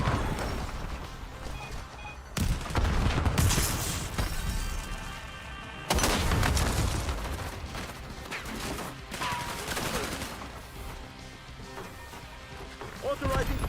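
Gunfire from Call of Duty: Black Ops 7 crackles in loud, dense bursts of rapid shots and impacts, continuing across the whole stretch with brief pauses and layered battle noise.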